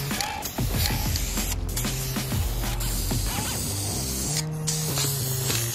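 Purple spray paint hisses loudly and continuously from a can onto a steel go-kart frame, with clicks and mechanical creaks from the nozzle and handling close by.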